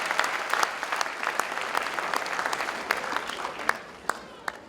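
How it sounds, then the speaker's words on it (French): Audience applause for a best actors trophy at a young talent film awards ceremony, steady dense clapping from a crowd throughout with a few louder individual claps standing out near the end. "Ça s'applaudit, ça s'applaudit"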